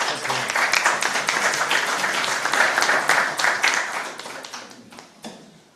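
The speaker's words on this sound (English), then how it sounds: "Round of applause." An audience at an awards launch applauds, with dense, steady clapping from many hands in a room that tapers off toward the end.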